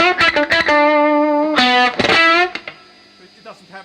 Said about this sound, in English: it's like an annoying distortion pedal instead